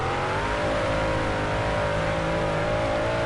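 A sprint car engine roars loud and close in the World of Outlaws Dirt Racing video game, a steady high-pitched droning whine holding without a break.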